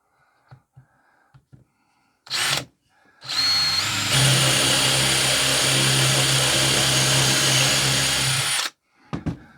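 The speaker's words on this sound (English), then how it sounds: "I've picked a forstner bit, you could use a spade bit, and I'm just going to drill next to the side of the sanding that I've done." A Forstner bit boring into wood for a rustic garden owl craft, a loud steady power-drill whine lasting several seconds after a brief initial burst, close up with no talking.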